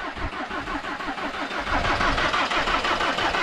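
A diesel van engine in freezing winter cold cranks with a rapid, laboured starter churn and then catches into a rough, loud running rumble, close by and with no voices.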